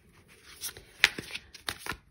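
Tarot cards are shuffled by hand in a few quick riffling, flicking bursts, close and fairly quiet, with no talking.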